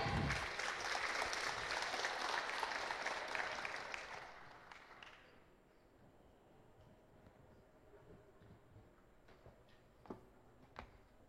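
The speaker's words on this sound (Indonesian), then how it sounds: "Mohon untuk tepuk tangan yang meriah." Applause for the 2024 graduating class at Al-Amanah junior high school's Tahfidz graduation, dense clapping filling a hall for about four seconds, then fading to quiet room noise with a few scattered late claps.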